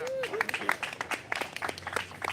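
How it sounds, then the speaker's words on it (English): An audience applauds at a political event with a senate deputy leader and an assemblymember. The scattered, moderate claps sound fairly close, with a voice briefly heard over them. "Let's give another round of applause to Assemblymember Mamdani"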